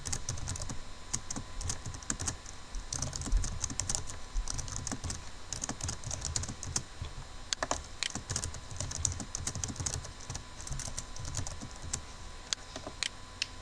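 Rapid, uneven typing on a computer keyboard while writing HTML code, with quiet clicky keystrokes in bursts and short pauses, close by and without any speech.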